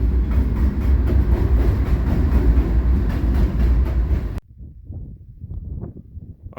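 A freight train on a Mojave Desert shortline rolls loudly past close by with a heavy rumbling roar and rattling cars, then cuts to quieter, intermittent clanking.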